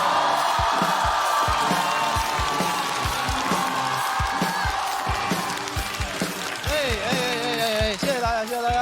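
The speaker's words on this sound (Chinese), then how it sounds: "掌声有请翟佳宁" A live stand-up comedy audience greets comedian Zhai Jianing with sustained applause, cheering and whoops, a dense steady crowd roar filling the whole stretch, with some rising shouts near the end.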